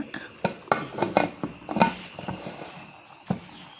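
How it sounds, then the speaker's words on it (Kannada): A pressure cooker lid is fitted and closed with a series of sharp metallic clanks and clicks, about ten uneven knocks close by, followed by a quieter tail. "ಕುಕ್ಕರ್ ಲಿಡ್ ಕ್ಲೋಸ್ ಮಾಡಿ ವಿಸಿಲು ಹಾಕಬೇಕು"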